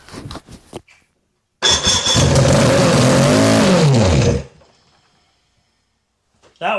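A 1986 Mercury 90hp outboard on an Alumacraft boat cranks, catches and roars loudly for about three seconds with a rising rev, then cuts out to near silence before a second burst at the end.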